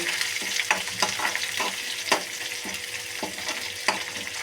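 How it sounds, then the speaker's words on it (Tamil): Onions fry and sizzle in a pan as they turn brown, a steady hiss broken by sharp clinks and scrapes of a spoon stirring at an irregular rhythm, with no talk. "நல்லா அந்த வெங்காயம் ப்ரௌன் கலரில் ஆகணும்"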